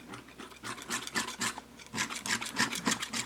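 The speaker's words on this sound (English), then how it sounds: "Just give it a good scrape here, trying to get most of the paint off" An oil painter scrapes leftover paint off a palette with a knife, a run of repeated rough rasping strokes, close and fairly loud, with a short pause partway through.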